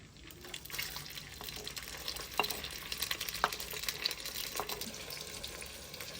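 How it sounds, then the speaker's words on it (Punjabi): Onions frying in hot ghee in a village kitchen, giving a steady close sizzle broken by scattered stirring clinks and scrapes, with no voices. "ਘਿਓ ਜਿਹੜਾ ਨਾ ਗਰਮ ਹੋ ਗਿਆ, ਇਹਦੇ ਵਿੱਚ ਪਿਆਜ਼ ਪਾਵਾਂਗੀ"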